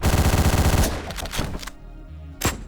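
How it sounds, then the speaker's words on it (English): An assault rifle fires a rapid burst of gunshots in a video game, loud and close, then the shooting stops and a couple of sharp single reports and mechanical clicks follow. "here I shot way too early with the assault rifle"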